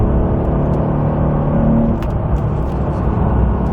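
A Porsche 992 Carrera T cruises along a road, a steady engine drone and road rumble filling the cabin with a slight dip and recovery partway through.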